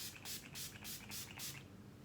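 Several quick, close bursts of makeup setting spray misted onto a face, five or six hissing pumps in an uneven rhythm with short gaps between them, each one bright and airy.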